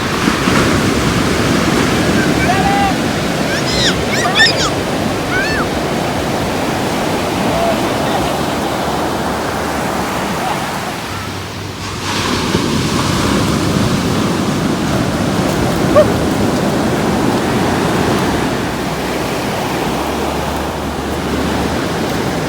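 Ocean waves break steadily on a sandy beach, a loud continuous wash of surf with wind noise on the microphone throughout and a brief lull midway.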